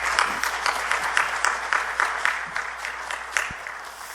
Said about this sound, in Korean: 우리 김태영 목사님을 박수로 환영해 모시겠습니다